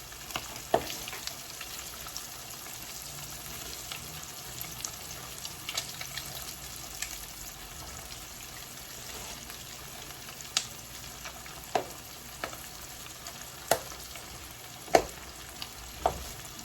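Crab pieces fry in hot grease, giving a steady close sizzle broken by sharp pops and crackles every second or two.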